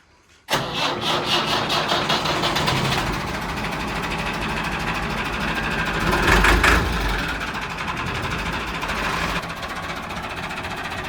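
A tractor engine starts and runs steadily out on a Punjabi farm field, a loud continuous mid-pitched drone with a brief rise in the middle, no talk over it.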